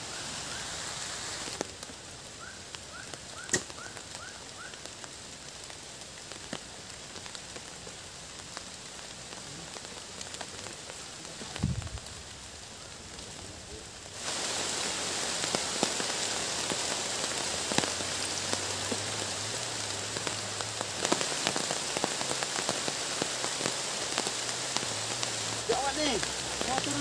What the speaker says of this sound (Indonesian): Hujan mulai turun sobat.